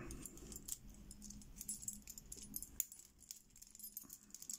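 Old lever keys, including an old Danish one, jangle and clink as they are handled close up, in irregular bright metallic bursts with small rattles between them.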